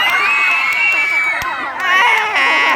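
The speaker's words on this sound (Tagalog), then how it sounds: "Mga kaibigan, pwede po ba akong humingi ng malakas na sigawan?" An audience at a gay beauty pageant cheers and shouts loudly, a dense wall of screams and whoops from the crowd that dips briefly and then surges again.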